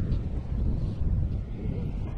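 Wind buffets the microphone at a waterfront park with low rumbling gusts, a continuous blustery roar with no one talking.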